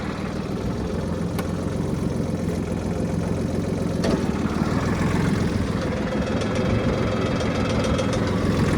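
A Mitsubishi MTR-300 mini tractor runs steadily with its PTO shaft and blades turning, a dense continuous engine drone with knocking texture and mechanical whir, loud and close throughout without pause.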